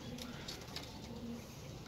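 A pigeon offered for sale coos softly. Faint, low, rolling coos are heard close by in a quiet space over a short stretch, with no talking.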